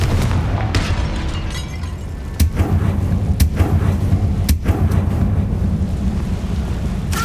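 Confringo fire-blast spell impacts in the Hogwarts Legacy game on PC, several sharp booming bursts over a dense, rumbling roar of game sound, loud and close with no talk.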